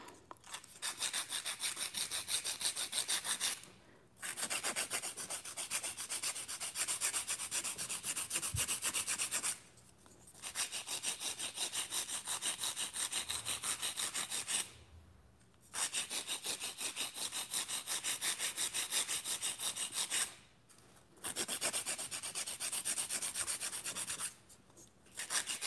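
A nail file rasps back and forth across acrylic nails during a fill, loud and close, in long steady bursts broken by brief pauses, with no talking.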